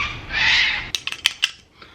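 Birds calling outdoors in Sydney, a run of short, sharp chirps and calls in quick succession following a brief burst of broadband noise, fairly close and with no talking.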